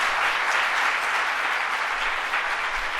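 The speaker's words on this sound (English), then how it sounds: "let's give them a round of applause for their leadership on these issues." Steady, dense audience applause fills a government press event at the Museum of Jewish Heritage, a broad even wash of clapping from many hands that holds at constant loudness throughout with no voices over it.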